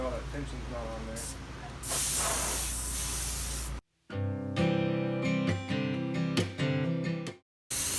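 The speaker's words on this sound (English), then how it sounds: "It's easier if you hold the hose with one hand." Water sprays from a garden hose in a strong, continuous hiss close by, then shifts to a patterned spray with brief pauses; voices talk over the sound.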